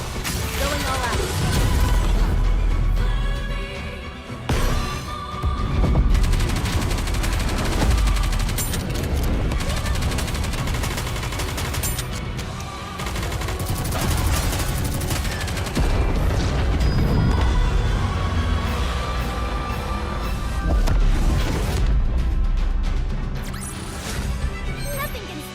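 Battle from Goddess of Victory: Nikke, with sustained gunfire and heavy booming explosions that run nearly continuously, loud and dense, under voiced character lines and music.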